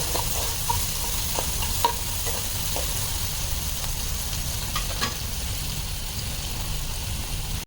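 A spoon mixing a colourful vegetable salad of sprouted green gram, onion and beetroot, a continuous wet rustle with scattered light clicks of spoon on bowl, close and steady throughout.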